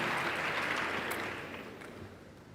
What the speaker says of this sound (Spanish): Un aplauso, por favor, para la presidenta.